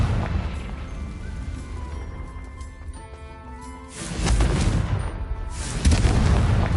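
Confringo blasting spell explosions in Hogwarts Legacy, heavy booming bursts that swell near the end over a rumbling game soundscape, with two loud blasts close together.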